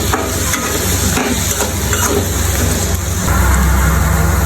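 Oil sizzles and crackles steadily as potatoes fry in a pan, a dense hiss with occasional stirring scrapes, close up and continuous.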